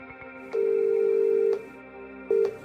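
An outgoing telephone call rings through the earpiece: one long, loud ringback tone of about a second, a pause, then a second tone starting, heard alone without talk.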